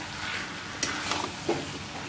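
Chicken sizzles and fries steadily in a pan, with a few soft clinks from stirring.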